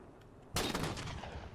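Gunfire from a weapon in Halo 4 erupts in a loud dense burst after a quiet start, with rapid overlapping shots and echoing blasts carrying on to the end.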